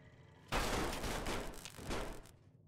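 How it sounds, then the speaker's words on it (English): Weapons fire in a post-apocalyptic wasteland video game, a sudden loud burst of rapid gunfire starting abruptly and sustained for about two seconds before cutting off. "Firing weapons."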